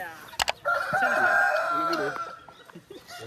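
A rooster on a farm in Mangalore gives one full crow, loud and close, with a rising and then drawn-out call. A couple of sharp knocks come just before it and softer clucks follow as it trails off.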